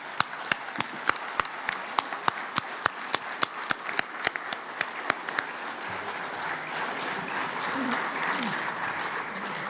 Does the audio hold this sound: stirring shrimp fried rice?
no